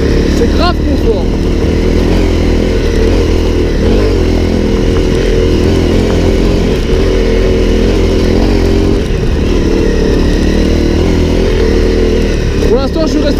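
A Honda CRF 250 L motorcycle ridden off road in second gear, its engine droning loud and steady at low revs with a close, buzzing tone, while the rider talks over it throughout.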